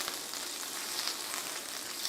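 Fat sizzles hard in a frying pan while beef stroganoff is cooked, a dense, steady crackling hiss heard up close without pause.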